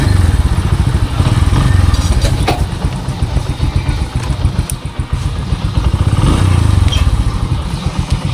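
A motorcycle engine runs close by with a steady, loud idling rumble and a dense fast pulse, with occasional clattering thumps and no voices.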